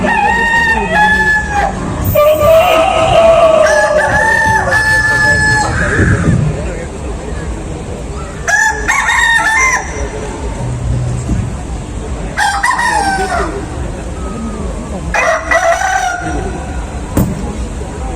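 A rooster crows loudly several times in drawn-out calls, close and clear, each crow separated by pauses filled with lower background sound.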